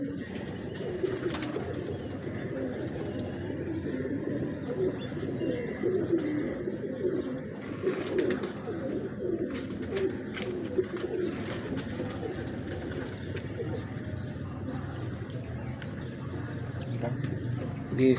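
Breeder pigeons coo softly and continuously in a loft, low murmuring calls overlapping under a steady background hum, with scattered light knocks and shuffles throughout.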